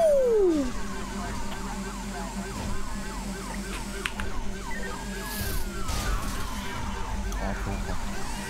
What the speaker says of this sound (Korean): 나도 있다. 사이렌.